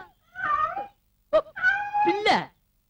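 A cat in a Telugu movie scene meows three times, clear and close, with drawn-out wavering cries separated by short pauses.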